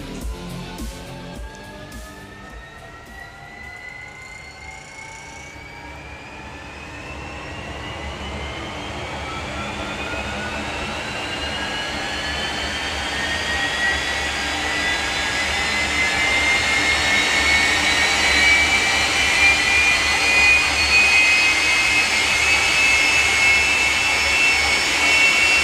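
A jet-powered drag racing car spools up at a hot rod drag strip, its turbine whine climbing steadily in pitch and loudness over about twenty-five seconds into a loud, sustained roar.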